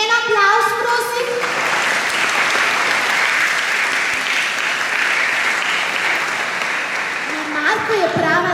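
A crowd at a children's choir concert in Kapele pri Brežicah applauds steadily after the choir is introduced. The clapping is thick and even throughout, with a voice speaking briefly at the beginning and again near the end.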